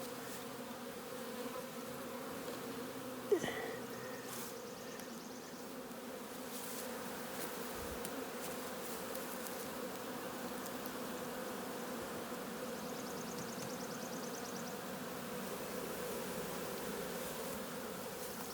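Bees buzzing around a new hive box after a swarm, a steady, quiet droning hum that carries on throughout, with one brief sharp tap near the start.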